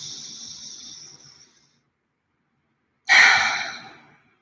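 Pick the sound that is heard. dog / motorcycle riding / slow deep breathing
slow deep breathing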